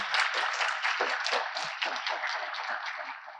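An audience applauds after a conference talk on logging for Django developers, a steady round of clapping from many hands that holds evenly and tapers slightly at the close.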